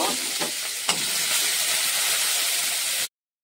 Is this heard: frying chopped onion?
yes